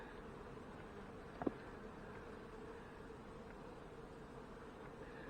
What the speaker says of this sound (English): See, there's lots of bees down below.